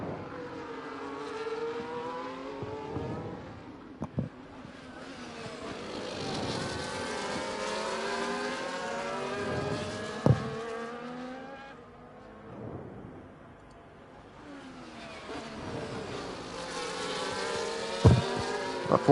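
Racing cars in a sim racing game at Brazil sweep by with rising and falling engine whines that overlap and fade, several cars passing near and loud in two waves, with a few short clicks between.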